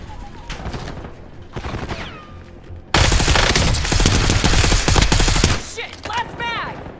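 Call of Duty gunfire, scattered shots at first, then a loud sustained automatic burst lasting a few seconds before fading into scattered shots and chirping effects, with a voice speaking over parts of it.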